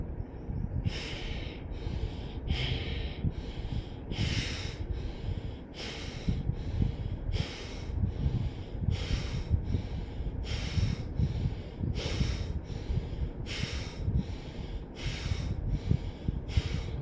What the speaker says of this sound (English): by deep breathing in and deep breathing out, inhaling and exhaling deeply.